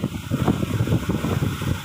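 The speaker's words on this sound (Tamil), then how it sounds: "காற்று அதிகமாக இருக்கிறதுனால நான் பேசுகிறது சரியாக கேட்குமா என்னன்னு தெரியல." Strong wind at sea buffets the microphone on a large boat heading back to shore, a dense roaring rumble with gusty pulses throughout.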